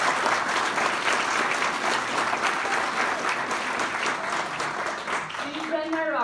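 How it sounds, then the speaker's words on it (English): Loud, continuous applause from a sizable crowd, holding steady; a voice begins to emerge near the end. "I think we should give her a huge round of applause"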